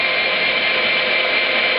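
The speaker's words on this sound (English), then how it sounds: "That's the beauty of these rechargeable drills." A rechargeable drill bores through metal clamped against a piece of wood, a loud, steady, high-pitched whine held without a break from start to finish.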